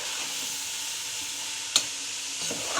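Chicken stir-frying in a pan with capsicum, cabbage and carrot makes a constant close sizzle and hiss, broken by one sharp metallic clink of a utensil partway through.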